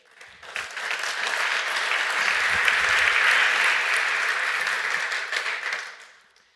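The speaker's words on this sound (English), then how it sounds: "a big round of applause and public thank you to all our sponsors" A conference audience claps for sponsors in a swelling, steady burst of applause that builds, holds for several seconds, then tapers off.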